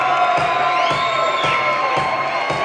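A crowd in a Cowboys dancehall cheering and whooping steadily for the winner of a bikini contest, a dense, loud roar of voices that never lets up.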